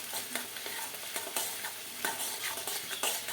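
Onion with ginger-garlic paste being stirred in a hot pan, with a steady close sizzle and repeated scraping strokes of the spatula throughout.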